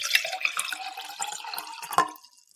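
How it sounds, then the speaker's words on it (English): Half a litre of water is poured into a flask, a splashy trickling with bubbly gurgles that rise and fall, a brief louder splash near the end before it tapers off, with no talking. "all you do is you just add 500 millilitres or half a litre of water"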